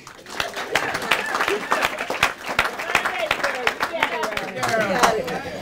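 Guests at a wedding break into scattered clapping, sharp individual claps overlapping with voices talking and laughing close by.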